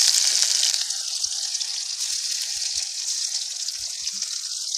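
Elephant foot yam stalks fry in hot oil with a steady, bright, crackling sizzle. It is loudest at the moment they go into the pan and then holds on close and continuous, with no talking.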